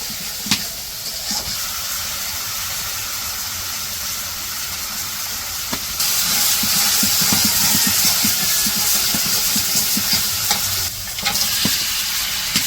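Quail meat and spices sizzle and fry in a pan during village-style cooking, with a steady hiss and the scrape of stirring; the sizzle grows louder partway through and stays close, with no talk.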